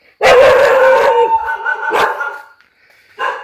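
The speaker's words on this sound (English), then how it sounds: "Hello, doggies." Dogs bark and howl loudly close by, one drawn-out howl followed by a sharp bark and a final short yelp after a pause.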